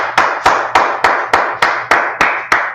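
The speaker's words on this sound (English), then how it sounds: "Let's clap it up for the class." Loud, close handclaps ring out at a Hebrew-language class, about nine crisp, evenly spaced claps in a slow, steady rhythm with short gaps between each.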